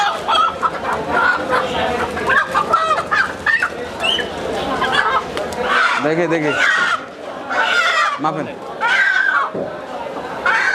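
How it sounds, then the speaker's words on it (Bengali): Native country roosters and hens at a local market cluck and squawk intermittently, close by, under and between ongoing conversation among buyers and sellers. "দেশি মোরগ"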